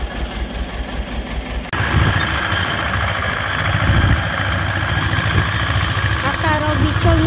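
An old Ursus C 330 tractor engine idles in a field, a loud, steady low rumble with a knocking vibration that grows fuller after a brief shift, while people talk faintly under it.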